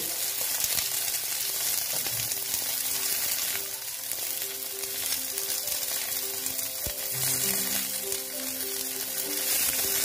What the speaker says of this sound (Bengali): ঢেঁড়সগুলো দিয়ে একটু আমি ভেজে নেব।